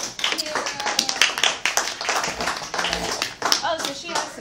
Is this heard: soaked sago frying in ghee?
no